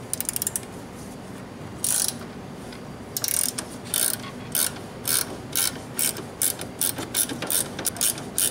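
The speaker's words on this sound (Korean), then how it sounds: "여기 안쪽에 볼트만 풀어주면 돼요." A ratchet wrench loosens a bolt on a scooter, giving rapid, close clicking strokes repeated in short bursts throughout.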